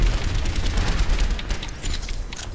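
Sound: gunfire in the video game Overwatch

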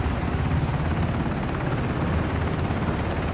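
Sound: helicopter in the Ring of Elysium video game

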